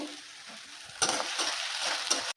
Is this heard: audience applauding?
no